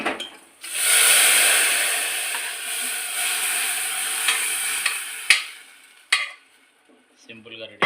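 Chopped radish curry hits a hot tempering of oil, cumin, dried red chillies and curry leaves in a pan, bursting into a loud, steady sizzle. The sizzle fades as a spoon clinks and scrapes, stirring in a few short knocks.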